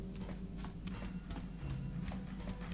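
Soft footsteps patter at an even pace behind a low steady hum in the video game Star Wars: Knights of the Old Republic, faint and regular, with no voices.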